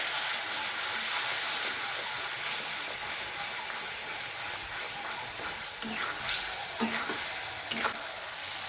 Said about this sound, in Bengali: মশলা দিয়ে দিয়ে দিচ্ছি অল্প একটু জল জলটা দিয়ে আবার একটু কষে নিচ্ছি